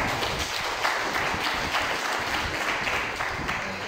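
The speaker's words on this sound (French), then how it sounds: "Je vous demande de l'applaudir," An audience at a book dedication ceremony in Medina applauds, a dense, steady wash of many hands clapping at once that carries on evenly without a pause.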